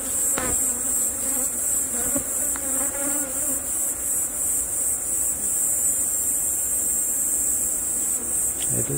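A dense swarm of native honeybees buzzes loudly and agitatedly up close, harassed by hornets, a constant high drone with no pauses.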